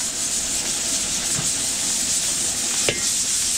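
Ginger and onion sautéing in a pan for a catering cook-up, a steady close hiss of sizzling with a couple of brief scrapes or clinks of a utensil.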